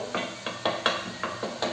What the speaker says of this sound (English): Turning back to my frying tomato.